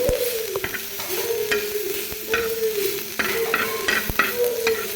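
Garlic, turmeric and coriander leaves sizzle in hot oil in a pan as a phodni tempering, a steady close crackle broken by sharp scrapes and clinks of a spoon stirring, with no talking.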